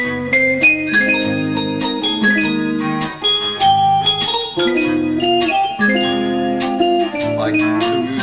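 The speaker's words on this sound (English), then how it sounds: "I mix the vibes in with the guitar" Bright vibraphone notes ring and shimmer over a steady plucked guitar accompaniment, playing a gentle, continuous melodic passage.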